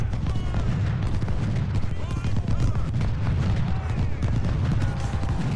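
Battlefield gunfire in the Ultimate General: Civil War game, a continuous rolling din of massed musket volleys and booms under someone talking throughout.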